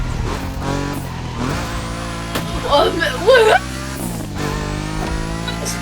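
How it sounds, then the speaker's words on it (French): A fully upgraded car engine in a racing video game drones loudly and steadily, its pitch shifting as it revs, while someone talks excitedly over it. "Mais genre la voiture puissante."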